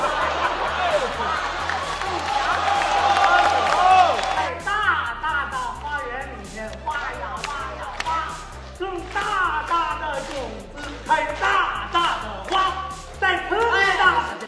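A Peking opera audience in a packed theatre cheers and applauds, a dense roar of clapping and shouts for the first few seconds, then thinner bursts of cheering and calls rising and falling beneath voices.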